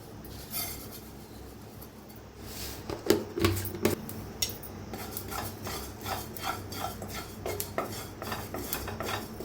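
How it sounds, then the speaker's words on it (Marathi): A spoon scrapes and rasps against a metal kadhai while roasting sesame seeds, in steady bursts, with a few sharper clinks of utensil on metal, close by and moderately loud. "त्याच प्लेटात तीळ भाजून घेऊया आपण कढईत"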